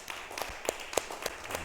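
Worshippers at a church service clap in a faint, regular rhythm of distinct claps about a third of a second apart, with soft room noise between them.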